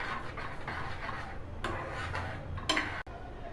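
A spoon stirs masala milk with saffron in a pot, giving soft scraping and a few sharp metallic clinks against the vessel, close and fairly quiet.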